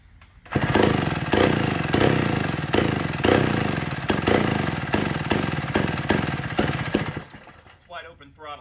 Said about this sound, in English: It's hitting or missing, and then it picks up, and then it drops off.